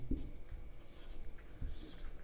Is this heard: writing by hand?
yes